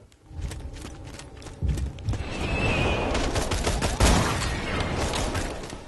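Gunfire from shooting enemies in Borderlands 2, a rapid run of shots layered over busy game effects and other impacts, loud and close, no talking.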